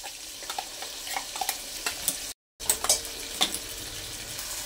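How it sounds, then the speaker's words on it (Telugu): Ginger garlic paste with tomato fries in hot oil for vegetable biryani, giving a steady close sizzle with scattered crackles and stirring scrapes and a brief dropout midway. "ఇప్పుడు ఈ అల్లం వెల్లుల్లి పేస్ట్ అంతా మంచిగా వేగిపోవాలండి"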